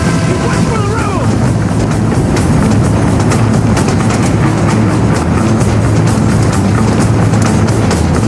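A train rumbles steadily past in the Western video game Red Dead Redemption, a loud continuous roar with rhythmic clatter, mixed with game sound throughout.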